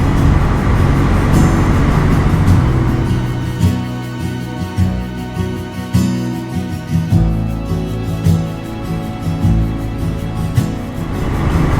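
A Kawasaki W650 motorcycle rides through a village, its engine a loud, steady, close rumble with wind noise and a slightly pulsing drone throughout.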